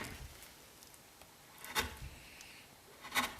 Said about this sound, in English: just finish contouring it with the chisel texture